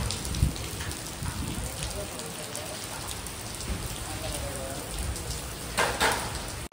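Heavy rain pours down outdoors near a maize field, a dense, constant broadband patter of drops on surfaces, loud and close, with some faint background voices mixed in.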